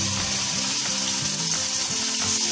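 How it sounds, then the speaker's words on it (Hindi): Paneer pieces frying in a little oil in a pan, a continuous loud, close sizzle with soft bubbling crackle running steadily throughout. "सबसे पहले हम पनीर को फ्राई कर लेंगे। पैन में हम थोड़ा सा ऑयल डालेंगे, इसमें पनीर के पीसेस डालेंगे।"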